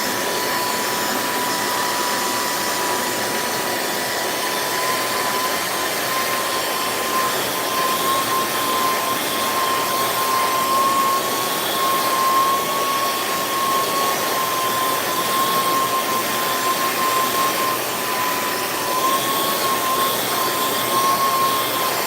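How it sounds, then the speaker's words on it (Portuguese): A hair dryer on its hottest setting blows continuously while drying watercolor-painted fabric, a steady, even whoosh with a faint whine for over twenty seconds. "vou usar o meu secador no mais quente e um pouquinho distante do tecido para não queimar o tecido"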